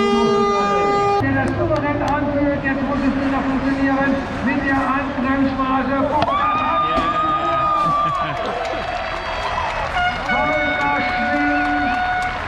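A large crowd at a truck racing final at the Nürburgring roars and cheers with horns sounding, loud and continuous, with someone talking over the noise nearby.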